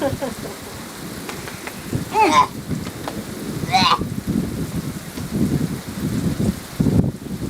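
Rain falls steadily during a thunderstorm near the San Juan River, with low rumbling thunder rolling through and a couple of brief higher sounds rising over the wash, recorded outdoors on a 1990 vacation.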